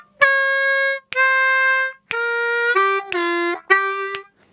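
Blues harmonica lick of draws and half and whole step bends, six bright reedy notes in a steady pattern, the later ones bending downward, played loud and close without any voice.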